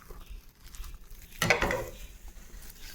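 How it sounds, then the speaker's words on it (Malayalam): Mashed banana tipped into a pan of semolina, wheat flour and ghee, giving a brief burst of soft thuds, scraping and a faint sizzle, then quiet stirring. "ഇനി നമ്മൾ ഇതിലേക്ക് നേരത്തെ നമ്മൾ ഉടച്ച് വെച്ചിട്ടുള്ള പഴം ഒന്ന് ചേർത്ത് കൊടുക്കുകയാണ്"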